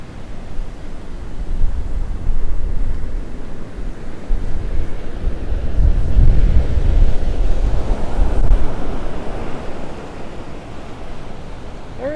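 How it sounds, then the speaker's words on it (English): Ocean surf and gusting wind roar at Vanderbilt Beach as Hurricane Helene approaches, a continuous loud rumble of breaking waves with wind buffeting the microphone, swelling to a heavier crash midway before easing slightly. "Oh, there's a big wave right there."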